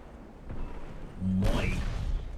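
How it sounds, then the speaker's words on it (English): A torpedo detonation in the naval warfare game Ultimate Admiral Dreadnoughts: a single low boom and rushing burst midway through a short, quiet stretch, with no voices. "Torpedo detonation, good."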